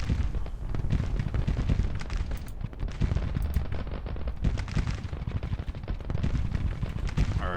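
Artillery booms and massed musket fire from a Civil War battle in the strategy game Grand Tactician, forming a dense, continuous crackle of rapid shots with heavier thuds, loud and unbroken, with no talking.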